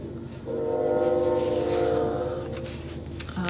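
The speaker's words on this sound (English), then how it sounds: "I swear every time I do a video there's a train." A train rumbles past nearby with a long, steady horn blast and rolling rail noise, building in and fading slightly toward the end.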